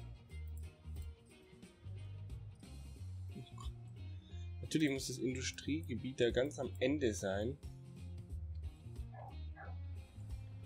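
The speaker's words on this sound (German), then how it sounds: "Hier hat noch nie ein Hund gebellt." Dog barking and yipping in the transport strategy game Transport Fever 2, a run of sharp repeated barks in the middle over a steady low music loop, with someone talking before and during.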